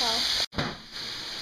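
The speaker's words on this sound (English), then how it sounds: "Sizzling." Food sizzles in a big frying pan on a stovetop burner, a steady bright hiss that is briefly interrupted. A voice is heard at the very start.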